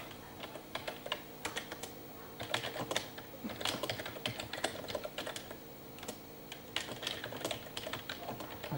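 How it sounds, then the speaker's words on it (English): Typing on an Acorn Archimedes A7000 computer keyboard produces a close, irregular run of clicky keystrokes in uneven bursts with brief pauses, with no talking. "As my terrible typing shows at the moment on this keyboard"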